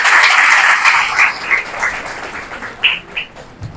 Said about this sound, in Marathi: तर त्याच्यासाठी जोरदार टाळ्या झाल्याच पाहिजे